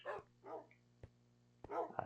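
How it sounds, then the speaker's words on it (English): Several dogs barking in Minecraft, sharp separate yaps in an uneven rhythm, close and clear with nothing else around them. "Here's my little dog hunting team or whatever."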